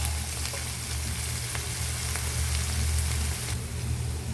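Pork and onion fry in a pan for ginataang kalabasa, a steady close hiss of sizzling oil with faint crackles and no talk.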